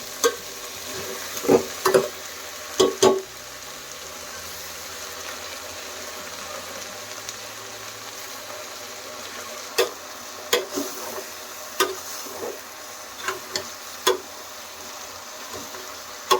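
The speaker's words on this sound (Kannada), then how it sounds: "ಈರುಳ್ಳಿ, ಟೊಮೊಟೊ ಹಾಕಿ, ಕಾಳೆಲ್ಲ ಹಾಕಿ ಫ್ರೈ ಮಾಡ್ಕೊಂತೀವಿ." Onion, tomato, green chilli, curry leaves and cowpeas frying in a pan, with a low steady sizzle beneath scattered clinks and scrapes of stirring that come in short clusters near the start and again toward the end.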